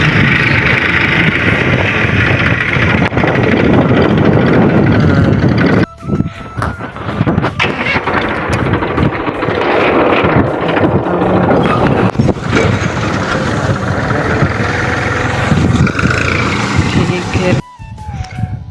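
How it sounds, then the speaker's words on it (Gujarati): A tractor sowing wheat in a farm field runs with a loud, rough engine drone mixed with heavy wind buffeting on the microphone, while people talk over it. "જો આ ટ્રેક્ટર આવે"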